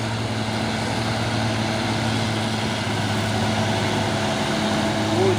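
A Hino tanker truck climbing a road, its engine giving off a steady, heavy low drone that holds loud and constant from start to end.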